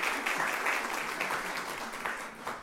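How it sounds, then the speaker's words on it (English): An audience at a Columbus Metropolitan Club forum on Ohio charter schools claps in a steady, moderately distant round of applause that holds for the whole stretch. "You can give Aaron a round of applause."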